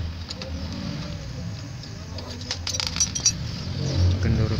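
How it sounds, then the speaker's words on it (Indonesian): A star socket wrench loosening brake bolts on a Honda Beat motorcycle, with close metallic clinks and ratcheting ticks over a steady background hum, growing slightly busier toward the end. "Pertama-tama kita persiapkan kunci shock bintang. Lalu kita kendorkan baut-bautnya."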